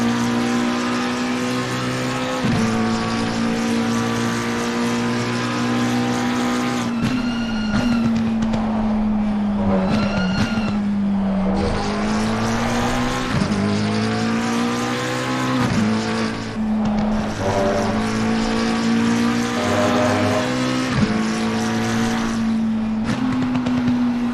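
Onboard the number 4 race car lapping Snetterton circuit, the engine drones loud and steady, climbing and dropping through gear changes and revs, with brief tire squeals on corners.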